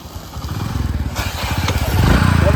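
A motorcycle engine putters close by, its rapid pulsing exhaust growing louder as it revs up toward the end.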